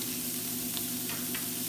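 Shallots sizzle in a pan while risotto is being cooked, a steady soft hiss with a few faint clinks of a utensil, and no talking over it.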